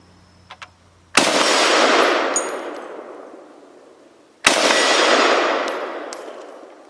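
FS2000 rifle fired at a steel plate target outdoors: two loud, sharp reports with long ringing decays, a few seconds apart, and faint metallic pings after each, no talk.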